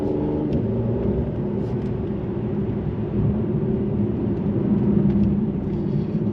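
Mercedes-AMG C43 coupe cruising on a twisty road, a steady low engine and road rumble heard from inside the cabin, rising slightly near the end.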